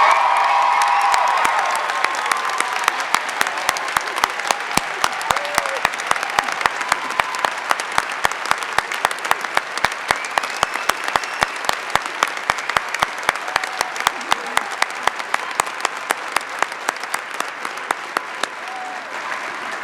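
Applause and cheering fill a School of Nursing pinning ceremony as a graduate is introduced. Loud, continuous clapping from a large audience runs for about twenty seconds, with scattered whoops and shouts mixed in and a slow fade toward the end.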